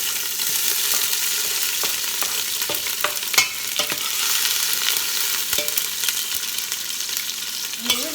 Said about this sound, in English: I will start frying the onion on a low heat.